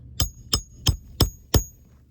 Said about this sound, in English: it's hammer time